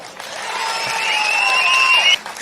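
Audience at a political ideology meeting in Karur, Tamil Nadu, bursting into sustained applause and cheering, a broad steady clatter of clapping with whistles rising above it before it breaks off abruptly near the end.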